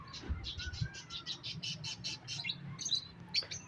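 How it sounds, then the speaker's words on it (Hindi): Pigeons gathering outdoors for scattered grain give a run of quick, repeated bird calls, fairly faint and at a short distance, with no talking. "अब सब कबूतर बाहर आएंगे दाने के लिए"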